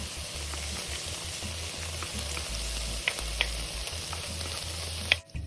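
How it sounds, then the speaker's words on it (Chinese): Curry chili paste with lemongrass and a piece of cinnamon stir-fries in a pan with a steady close sizzle, broken by a few sharp utensil taps before a brief drop near the end. "继续炒香。"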